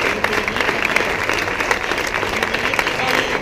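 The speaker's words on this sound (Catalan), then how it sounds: "un fort aplaudiment per a ells" A concert audience of the Societat Musical Bonrepòs i Mirambell breaks into sustained applause, dense even clapping from a crowd in a hall, steady throughout with a few voices underneath.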